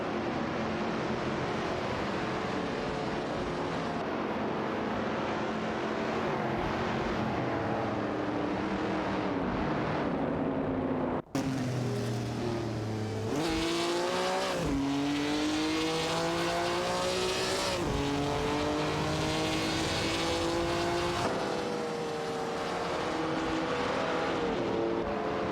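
Race cars, including an Oldsmobile 442 and a Maserati, roar around a track in an AI racing video game. Engines whine continuously, rising through the gears and dropping on shifts, with an abrupt cut midway and no talking.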